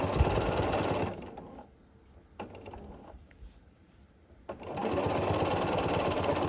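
A sewing machine stitching binding onto the front of a peppermint tree skirt quilt, running in a steady close whir, pausing for a few seconds with small clicks and handling noises, then resuming.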